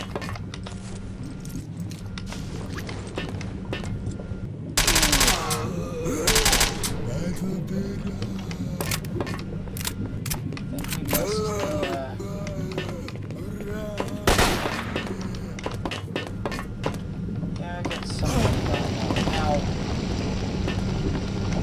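Gunfire crackles through a Stalker shootout in the Lab X16 area: scattered sharp shots and short bursts ring out over a constant low background drone, while a voice talks intermittently.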